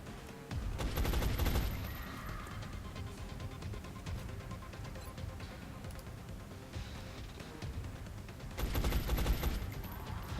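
Gunfire aimed at a chrysalid in XCOM Long War: a loud burst of rapid shots opens the clip, quieter game sounds follow, and a second heavy volley comes near the end, with no talking.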